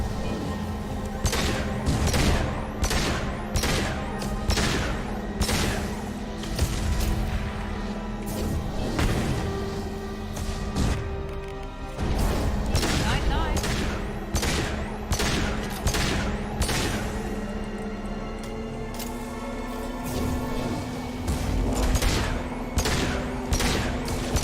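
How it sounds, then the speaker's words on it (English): Rapid bursts of pistol fire crack repeatedly as a gunship is brought down in Mass Effect 2, with a steady engine drone humming beneath the shots. "We just took down a gunship with a pistol."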